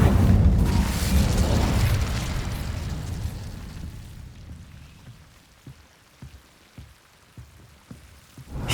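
A loud roaring blast from the Incendio fire spell in Hogwarts Legacy fades gradually over several seconds into quiet, followed by sparse, soft crackling pops.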